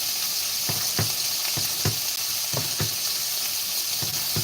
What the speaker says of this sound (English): Now we're gonna brown this bacon